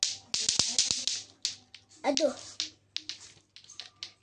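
Helicopter-style clapping pattern: a burst of five or six sharp, quick claps close by, broken by a short spoken exclamation, then scattered lighter claps continue.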